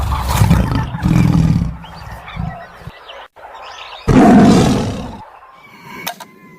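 A tiger roars in heavy, loud bursts close up, first two rough growling roars, then a pause and another powerful roar, with faint bird chirps in the quieter gaps.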